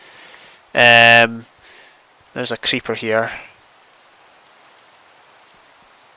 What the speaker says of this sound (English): Oh, listen to that rain, listen to that sound.